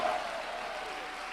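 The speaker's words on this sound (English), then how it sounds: "Come on, somebody clap your hands." A church congregation claps hands together during an energetic sermon, a dense, steady wash of applause with a brief louder burst at the start.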